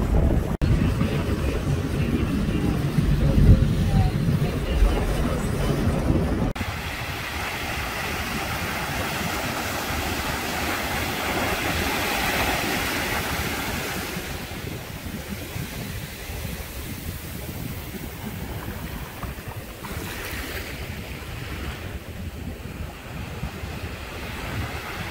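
A boat sailing at sea near Komodo Island, heading for a pink-sand beach, with loud, continuous wind and rushing waves against the hull that ease somewhat partway through, no voices.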